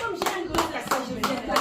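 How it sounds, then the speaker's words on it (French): A small group claps in short rhythmic bursts, about four or five strikes in quick succession, close by, with voices in the background. "Applaudissez pour ma."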